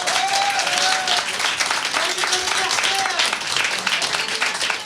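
Audience applause filling a room at a live comedy awards show, dense and sustained clapping throughout, with a few whoops and crowd voices mixed in.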